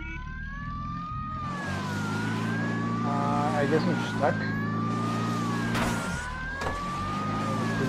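Police car from the Mafia 2 video game chasing closely, with a wailing siren rising and falling over a steady engine rumble throughout, while someone speaks briefly.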